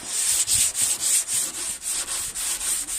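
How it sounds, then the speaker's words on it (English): Steady hand sanding on a Peugeot 206 bonnet being smoothed, a close, rhythmic rasp with about a dozen even back-and-forth strokes, alone with no talk. "But just keep sanding."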